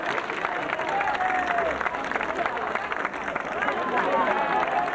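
An audience at a 1990 Italian poetry award ceremony in Chiesina Uzzanese applauds a guest's arrival, a dense, continuous clapping wash with crowd murmur, steady and moderately loud for the whole stretch.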